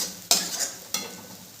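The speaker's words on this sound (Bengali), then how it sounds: "কাজু বাদাম বাটাটাকেও আমি ভালো করে কষিয়ে নেব।" Cashew paste frying in a pan for an egg korma, with two sharp scraping strokes of a spoon over a soft, steady sizzle.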